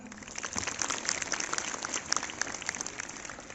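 Applause from an audience welcoming guests at a school Republic Day celebration, a steady dense wash of clapping lasting throughout without a break.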